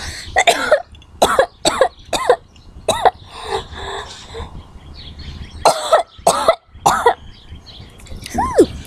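Repeated harsh coughs and throat clearing in bursts, close and loud, with short gaps between them.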